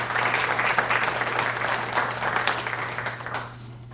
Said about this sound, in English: please join me in one last round of applause